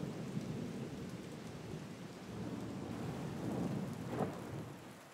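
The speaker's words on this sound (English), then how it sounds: "It is gonna be a storm, so you're gonna be hearing some thunderstorm here and there." Thunder rumbles steadily through a rainstorm, with continuous rain noise and a sharper thunder crack near the end, moderately loud and without any voices.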